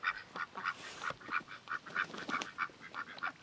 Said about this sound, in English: Ducks playing in the swale, just swimming.